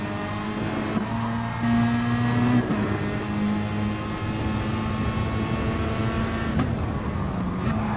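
Several GTC-1 race cars roar through a racing video game, engines droning and shifting pitch with revving upshifts, steady and close, the whine of multiple motors layered together with no talk.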